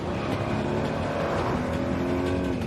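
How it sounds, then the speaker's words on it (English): A turbocharged Nissan Rogue engine roars steadily under acceleration, loud and close, with broadband road and engine noise. "Good thing this Nissan Rogue is a standard turbocharged engine."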